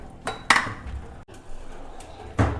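Iron kadhai knocked and shifted among other pots, a few sharp metallic clanks and scrapes spaced apart, close and moderately loud.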